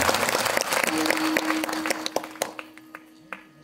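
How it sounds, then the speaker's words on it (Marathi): A kirtan gathering applauds loudly, dense clapping that thins out into scattered separate claps as it fades, with a faint sustained tone underneath. "संत श्री योगीराज किसन बाबांना जोरात टाळी वाजवून"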